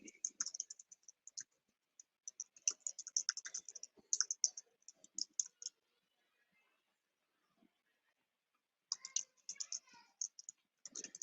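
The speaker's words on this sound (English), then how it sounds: "I'm typing now" Someone types on a computer keyboard in quick, uneven bursts of light clicks at close range, pausing briefly in the middle before the tapping picks up again, with no talking.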